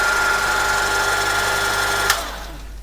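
An ASR33 teleprinter's tape reader is bolted back into the machine, giving a steady mechanical whir with a sharp click near the end before it winds down quieter.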